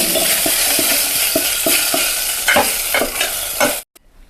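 Boiled eggs fry in oil in a pan and are stirred with a spoon: a steady sizzle with regular scraping strokes, roughly every third of a second, close and loud, ending abruptly.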